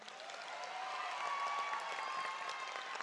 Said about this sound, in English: So please give a round of applause for our community.